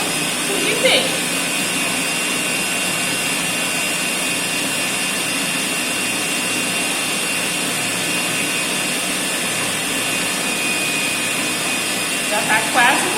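An electric stand mixer beats sponge cake batter with a steady, loud, whirring hum that holds unchanged throughout, while someone talks over it.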